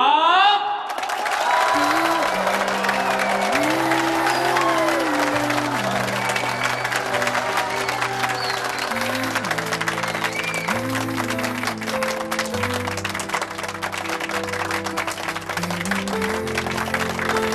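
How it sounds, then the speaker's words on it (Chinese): Wedding guests clap loudly and steadily for the bride and groom as they enter, with the dense applause continuing over festive music that plays throughout. "让我们用最疯狂、最激动、最热烈的掌声，欢迎我们的新郎新娘入"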